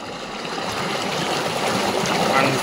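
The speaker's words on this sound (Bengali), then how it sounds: "পানির স্রোত।" Water current rushing through a drain at a pond bank beside a bridge, a steady close-up rushing and gurgling flow filling the whole moment without pause.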